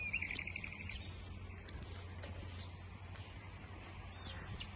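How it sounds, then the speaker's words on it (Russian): Many birds sing outdoors in Austria, faint chirps and trills scattered at a distance over a low steady background hum. "сколько здесь птиц поют."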